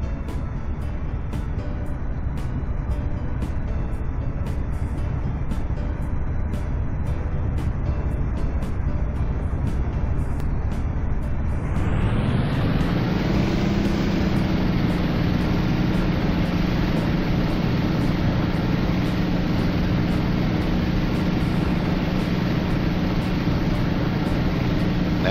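Propeller aircraft engine in a flight game, throttled up for takeoff. A steady low drone swells sharply partway through as the RPMs climb, then holds a loud, even whine and rumble to the end.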